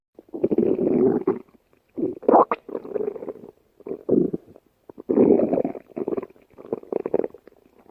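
A stomach growls in long, loud, gurgling rumbles, coming in several close bursts with short gaps between them, and nobody talks over it.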